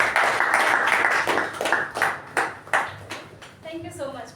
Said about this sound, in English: Toastmaster Mehjabin, with a huge round of applause.